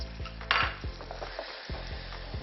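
Butter dropped into hot caramelized sugar in a pan, a sharp sizzle bursting up and settling into a crackling fry, with stirring scrapes and a few utensil clicks.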